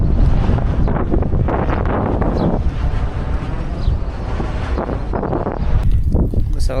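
Strong wind buffets the microphone during a bicycle ride along a road near windmills, a loud, continuous rumbling roar with uneven gusts.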